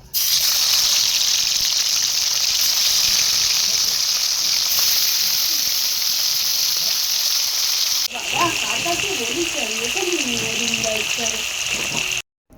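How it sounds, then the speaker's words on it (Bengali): Hilsa fish fry in hot Fortune oil with a loud, continuous hiss and crackle throughout. Partway through, a voice talks over the sizzling. "আমি তেল দিয়ে দেবো ফরচুন এবার একে একে মাছগুলোকে দিয়ে দেবো"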